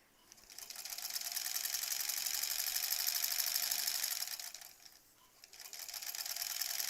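A sewing machine sews borders on a granny squares quilt, running in a steady fast whir with a faint rattle, dropping off briefly near the end and then starting up again.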